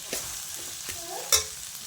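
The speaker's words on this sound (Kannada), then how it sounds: "ಇದು ಸ್ವಲ್ಪ ಕಲರ್ ಚೇಂಜ್ ಆಗೋವರೆಗೂ ಫ್ರೈ ಮಾಡ್ಕೊಳ್ಬೇಕು" Onions, green chillies and curry leaves fry in a pan with a soft, steady sizzle, broken by a few close scraping stirs of a spoon against the metal.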